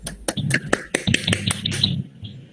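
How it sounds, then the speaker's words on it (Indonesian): Scattered sharp claps ring out in an uneven burst in a classroom, a few hands clapping close by before trailing off into quiet. "tepuk tangan"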